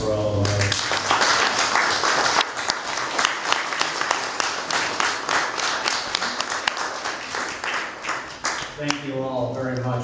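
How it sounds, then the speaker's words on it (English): A restaurant cocktail party for a school foundation breaks into a loud, close round of applause from a room full of guests, with someone speaking briefly just before it begins and again as it fades. "And a round of applause for all of us."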